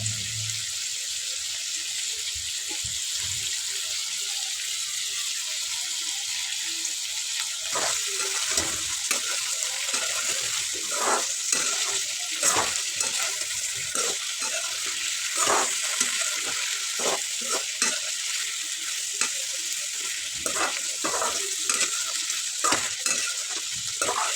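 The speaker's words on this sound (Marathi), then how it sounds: "एक दोन मिनटं चांगलं भाजून झालेलं आहे आता यात कांदा आणि कोथिंबीर टाकू" Green tomato chutney with onion and coriander fries in a pan, giving a steady, close sizzle throughout, with scraping stirs that grow more frequent in the second half.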